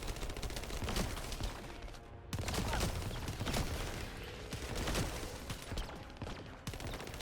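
Rapid, continuous automatic gunfire in the shooter game The First Descendant rattles on almost without pause, loud and dense, with brief breaks between bursts.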